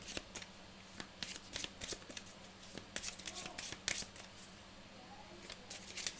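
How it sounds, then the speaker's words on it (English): Playing cards being shuffled during a tabletop game of 7th Continent, with repeated quick riffling bursts at close range over a low background hum. "Alright, let's shuffle these up."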